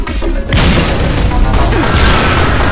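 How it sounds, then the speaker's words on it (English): A grenade explodes in the video game Halo Reach during a free-for-all match, a loud, close crashing boom with a debris-filled rumble that fills the whole moment. "He threw a grenade and started shooting me."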